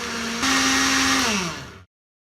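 An electric grinder jug whirs at high speed, its motor pitch rising then winding down before cutting off into silence.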